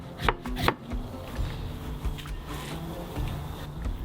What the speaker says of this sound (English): I want to cut the cabbage very, very thin.